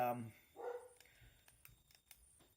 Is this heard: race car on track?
no